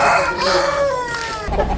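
A rooster crows loudly and close by at a village market, one long rising and falling call, ending with a brief low rumble.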